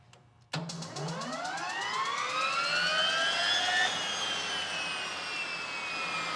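An Allison C-18 turbine engine from a Bell Ranger helicopter starts with a sudden loud onset, then a rising whine climbs in pitch and settles into a loud, steady, close roar.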